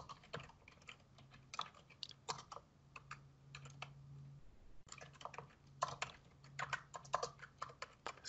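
Rapid typing on a computer keyboard while entering code, dense clusters of close key clicks with brief pauses and a low steady hum beneath, no talking.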